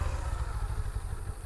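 A motorcycle doing a slow U-turn exercise on a riding-school training area gives off a close, steady low engine rumble with a slight pulsing throb, heard alone throughout.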